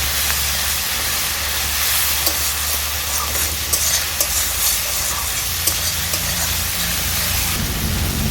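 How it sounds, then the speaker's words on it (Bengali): Spice paste of chili powder, turmeric and salt sizzles loudly as it is stir-fried in a pan, a continuous close hiss broken by occasional scrapes and taps of the spoon. "এবার মশলাটাকে আমি ভালো করে কষিয়ে নেব।"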